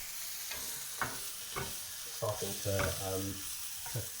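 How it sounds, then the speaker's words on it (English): Mushrooms cooking down in a pan with a steady soft sizzle, broken by a few clinks and stirring scrapes and several brief louder knocks near the end. "Just cooking these down, you see the mushrooms starting to"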